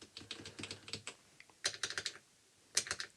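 Typing on an A1200.net mechanical keyboard built for the Amiga, close crisp key clicks in quick bursts with short pauses between, no talking.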